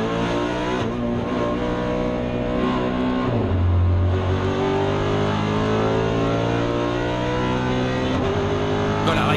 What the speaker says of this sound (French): C'est reparti pour l'accélération.